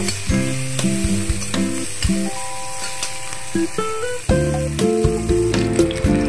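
Onion and green chili fry lightly in a wok, with a continuous sizzle under frequent ratcheting scrapes and clatter of a spatula against the metal, loud and close.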